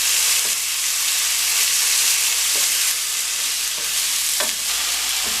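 Onions fry for chow mein in a hot pan, giving a loud, continuous sizzle with a few brief scraping stirs, and no talking.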